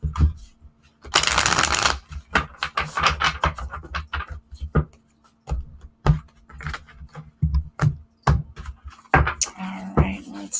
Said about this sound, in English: Literally, I shuffled this deck.